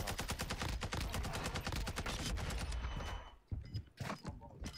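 Rapid bursts of gunfire in a video game shootout, dense and continuous for about three seconds, then a few scattered shots as the firing thins out.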